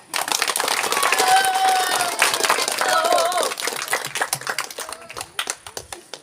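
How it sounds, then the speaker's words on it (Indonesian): Audience applause for two student council candidates at a junior high school debate, a dense crowd clapping steadily for several seconds before thinning into scattered claps, with some voices mixed in. "Kita beri aplaus kepada dua kandidat."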